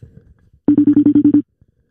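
A phone call rings out with a single burst of rapid, evenly pulsed electronic ringing tones, loud and close, preceded by faint low murmuring and followed by near silence.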